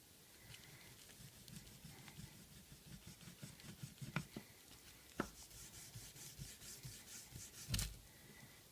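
A cotton ball rubs over an iPad 3 screen, giving soft, close, irregular rubbing strokes at low level with a few faint clicks and taps mixed in.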